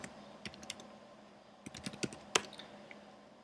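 Typing on a computer keyboard: quiet, close keystrokes in short irregular bursts, a few taps, a pause, then a quicker cluster ending in one firmer key press, with no one speaking.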